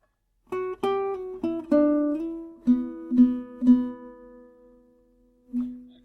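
Clean guitar picking out a phrase from a song, a string of separate plucked notes and ringing sustains with pull-offs and slides, close and alone with no talking.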